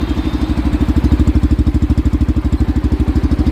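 A Yamaha FZX 150 cc motorcycle idles up close, its single-cylinder engine thumping in a fast, even, loud rhythm with no one speaking.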